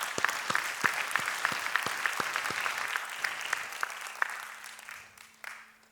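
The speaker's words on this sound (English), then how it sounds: "A round of applause for our incredible educators." A graduation audience claps for educators, sharp individual claps standing out over a steady crowd patter that gradually thins and fades toward the end.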